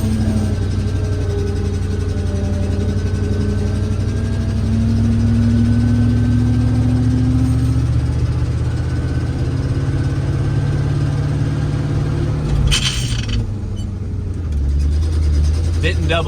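A 1968 IH Fleetstar 2010 truck loaded with soybeans, its engine droning steadily as it pulls away and gradually rising in pitch, then dropping off near the end at a gear change, heard from inside the cab.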